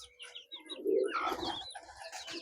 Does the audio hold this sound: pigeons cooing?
yes